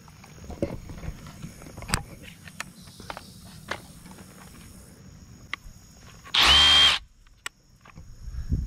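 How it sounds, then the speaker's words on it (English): Hammer drill biting into rock to free ammonites on private land in North Texas, one loud continuous burst of about half a second heard close up amid outdoor rustling and scattered knocks. "Okay, we're going to use this hammer drill."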